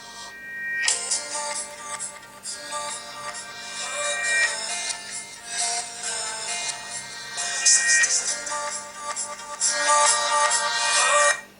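A song plays with a bright, full mix and busy melody from a Huawei Ascend W1 phone speaker at mid-range volume, sounding a bit thin and tinny, no talking.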